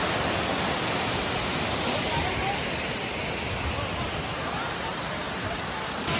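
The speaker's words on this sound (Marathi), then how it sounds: "पाऊस पण भरपूर आहे आणि धबधबा पण मस्त वाहतो" A waterfall pours heavily during monsoon rain, a loud, dense, unbroken roar of rushing water filling the whole scene at close range.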